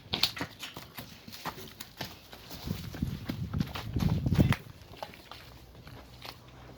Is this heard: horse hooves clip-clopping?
yes